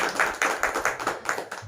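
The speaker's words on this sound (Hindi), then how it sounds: "जोरदार तालियां बजाएंगे यीशु मसीह के लिए" A small group claps for Jesus Christ at a Christmas online prayer meeting, about eight brisk, evenly spaced claps close to the microphone with no talking.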